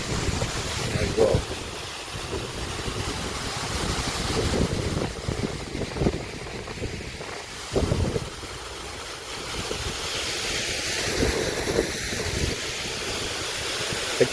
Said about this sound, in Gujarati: 28 ફૂટ ઉપરથી પાણી પડે છે.